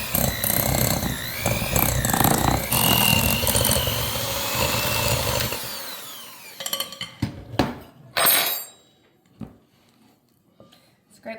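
A large bowl of softened salted butter and cream cheese being mixed, likely with an electric mixer: a loud continuous whirring grind for about six seconds, then scattered scrapes and knocks as it stops.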